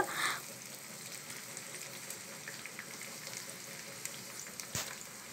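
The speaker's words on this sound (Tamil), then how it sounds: "நம்ம உள்ளே வச்சோடனே நல்லா பொரியிற சவுண்டு வரணும்" Moong dal frying in hot oil, dropped in small batches through a sieve: a dense, continuous crackling sizzle with scattered pops, close and steady throughout, with one sharper clack near the end.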